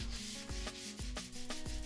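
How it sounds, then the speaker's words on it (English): Rhythmic rubbing strokes of a sanding block across wood floor patching, about eight back-and-forth passes in a steady scraping rhythm, close and fairly quiet. "This one I just made with the sanding block."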